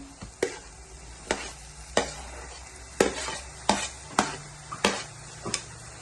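Tomatoes go into a frying egg curry, which is then stirred: a continuous sizzle punctuated by about nine sharp, regular knocks of a spoon against the pan, close and with no voices.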